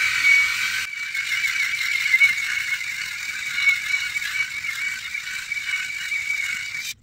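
A Remington Balder Boss head shaver runs close by with a steady, high electric buzz and a light rattle, and the tone shifts slightly after the first second as it touches the head.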